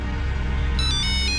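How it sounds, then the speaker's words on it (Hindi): A phone ringtone starts partway through, high electronic tones repeating in a quick pattern over a steady low background hum. "अब किसका फोन आ गया?"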